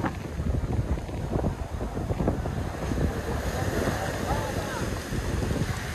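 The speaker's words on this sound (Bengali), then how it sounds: "যেভাবে ঢেউ চলছে" Sea waves crash close by on Digha beach, a loud continuous churning roar of surf mixed with heavy wind gusts on the microphone.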